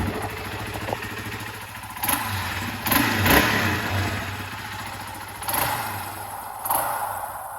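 A classic motorcycle being restored, its engine running steadily at high idle close by, with a few brief swells in revs, and no voices over the continuous mechanical drone.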